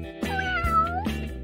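A cat gives a drawn-out, wavering meow that sounds close and clear, followed by a shorter second call. No one speaks.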